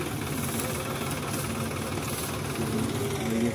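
Tractor engines rumble steadily at a low, throbbing idle while hitched to tow a stuck combine harvester in a field, a continuous mechanical drone with no talk.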